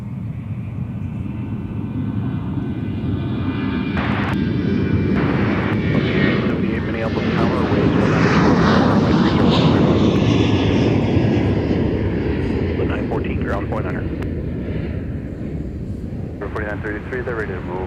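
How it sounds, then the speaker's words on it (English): A Delta airliner at MSP airport, bound for Bismarck, roars loudly with a sustained jet engine rush that swells to a peak midway and then eases, with radio chatter heard alongside. "Here's our Delta flight to Bismarck."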